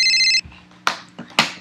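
A telephone rings once with a bright electronic trill that cuts off, followed by a few sharp clicks and knocks nearby.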